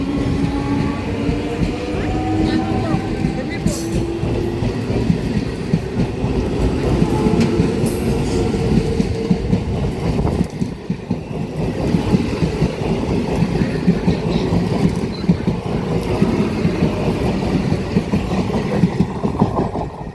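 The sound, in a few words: modern 3-phase EMU local train motor car accelerating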